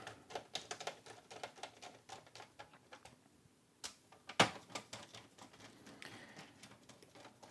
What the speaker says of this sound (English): Tighten up the screws again.